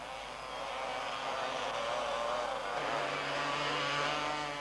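Three-wheeled ATC trikes and quads with 250cc two-stroke engines racing at Les Gets in 1987, a continuous buzzing engine drone that rises in pitch as the machines accelerate, fairly loud and steady.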